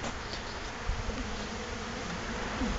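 Honey bees buzz around an open sugar syrup feeder jar in a beekeeping yard, a dense, continuous close-up hum of many wings with slight swells and no talk.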